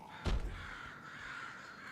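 Crows caw in the Guild Wars 2 video game, one loud, close call near the start followed by a steady ambient wash of game background sound, with no talking.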